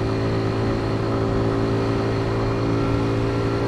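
A Honda Z125 minibike's small engine runs steadily while being ridden, a continuous mid-pitched drone with a buzzy harmonic hum that holds fairly even throughout, no voices present.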